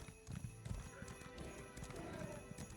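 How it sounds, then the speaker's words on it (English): A festive video-game horse mount trotting with jingle bells on its tack, quick clip-clop hoofbeats and bright jingling with an occasional whinny, fairly close and steady for a few seconds. "When they move, it does jingle bells."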